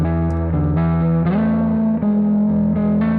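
Voice processed through a reverb effect unit, thick distorted harmonic tones holding and shifting pitch over a few seconds with a continuous smeared wash.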